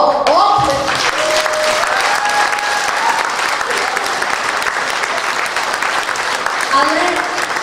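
Loud, continuous crowd applause at a dance competition final, a thick sustained roar of clapping with scattered shouts and voices over it throughout.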